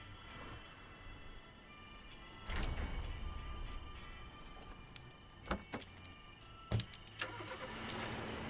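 A truck engine starting up in the war game Foxhole, a broad rumbling surge that kicks in and then settles into a steady idle, with a few sharp clicks and knocks on top, close and moderately loud.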